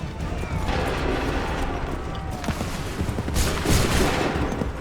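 Musket volley fire in a battle in Assassin's Creed III, dense overlapping crackling shots and rumble forming a continuous loud barrage, swelling toward the end.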